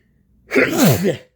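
A single close sneeze, a sharp intake followed by a loud burst, with no other sound around it.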